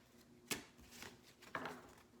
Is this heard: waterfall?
no